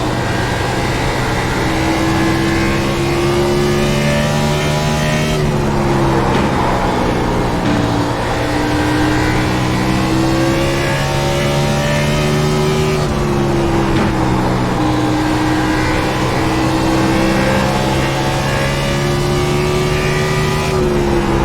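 A race car in a racing video game laps Bristol with a loud, continuous engine drone that rises and falls in pitch as it works through the corners, with no voices.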